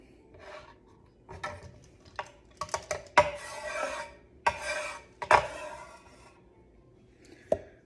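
Carrot being stirred in a mortar for papaya salad, giving intermittent scraping and wooden rubbing strokes with a few sharper clinks, close and moderately quiet, with no voices.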